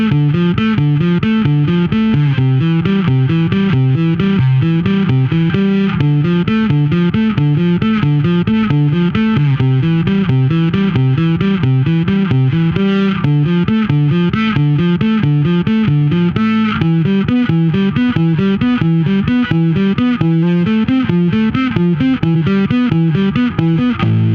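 An Aria Pro II SB-CFB signature bass guitar played through distortion overdrive, a loud, sustained, gritty run of fast repeated melodic notes that carries on without a break and with no talking.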